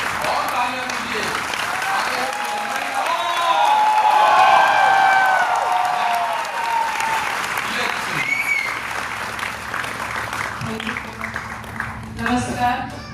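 Audience applause at an Amway Double Diamond event in Mumbai, a dense, steady clapping crowd that swells in the middle and fades toward the end, with cheering and voices mixed in.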